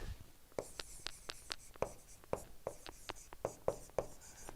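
Chalk or marker tapping and scratching on a board during an engineering lecture on refrigeration cycles, a rapid series of crisp, close strokes and taps at an uneven rhythm, with no talking.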